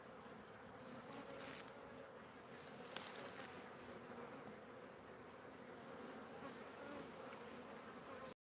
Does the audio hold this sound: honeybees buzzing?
yes